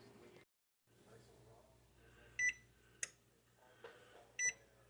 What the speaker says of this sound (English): Alrighty, timer's gone off.